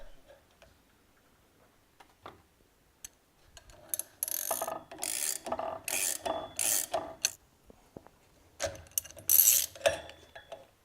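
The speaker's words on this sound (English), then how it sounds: "Remove the rear bearing from the shaft." A rear bearing comes off a DESMI pump shaft with clustered metallic scraping, ticking and ratcheting clinks in irregular bursts, quiet at first and then busier, close up with no speech.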